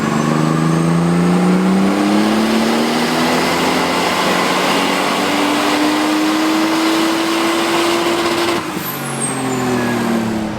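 Turbocharged car engine revving hard during a boost test run at about 10 pounds of boost, a loud, steady drone whose pitch climbs slowly for about ten seconds.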